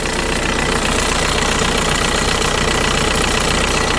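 A 2003 VW Jetta TDI turbo diesel engine idles rough with its hood up, a steady loud clatter and knock running continuously and close by, with no voices.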